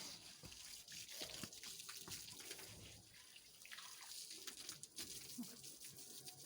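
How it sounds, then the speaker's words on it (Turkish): Running water splashes irregularly as a balcony is washed down, a faint, close patter with brief louder gushes throughout. "Şimdi de balkonumu yıkıyorum."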